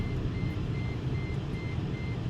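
An electronic warning beep repeats constantly in short, evenly spaced pulses over a low steady rumble. There is no talking.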